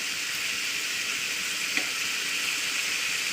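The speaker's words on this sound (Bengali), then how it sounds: "আমি এটাকে নাড়াচাড়া করে ভাজা করে নিই" Potatoes sizzle steadily in a hot pan, a bright continuous crackling hiss with a brief scrape partway through as they are stirred.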